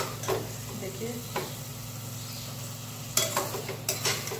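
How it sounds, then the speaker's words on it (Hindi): Potato and pea curry sizzles as it is roasted in a pan, with a steady frying hiss underneath and a few louder scraping stirs of a spoon at irregular moments. "इसमें थोड़ा सा भून देंगे सब्जी"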